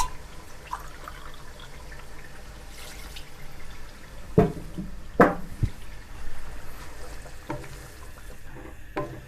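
Water is poured into a pot of Delhi-style chicken shahi korma, giving faint steady trickling with a few louder splashes near the middle, and no talk.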